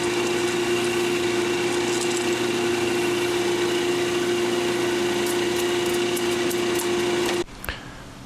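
A wood lathe spins an acrylic pen blank with a steady, loud motor hum and a fixed whine that holds unbroken for about seven seconds, then cuts off abruptly, followed by a short clunk and quiet.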